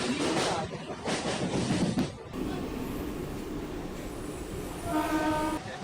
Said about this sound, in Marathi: सध्या मी दादर रेल्वे स्थानकामध्ये आहे